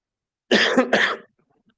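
Two harsh coughs in quick succession, close and loud, followed by silence.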